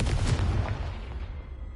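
A Confringo blasting spell explodes in Hogwarts Mystery, one loud booming burst that rumbles and fades away over a second or so.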